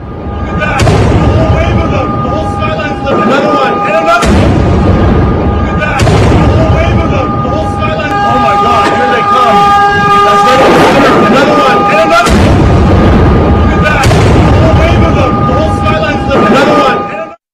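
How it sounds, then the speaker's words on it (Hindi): Missile strikes in Jerusalem seen in news footage, a series of heavy booming explosions recurring every few seconds amid sustained noise and ringing tones, with a voice speaking over them. "एक मिसाइल देखिए जेरूसलम में जाकर गिरी।"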